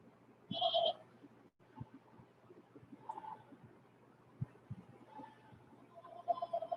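Market goats at a livestock show let out a loud bleat near the start, followed by fainter scattered calls and shuffling in a quiet barn setting.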